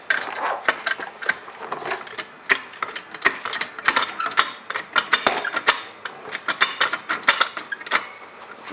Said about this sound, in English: Just a small jack is good for this part.